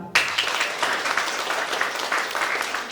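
Audience applause for the cast of a Polish carol-singing performance, steady dense clapping from many hands that starts abruptly and keeps going at an even level.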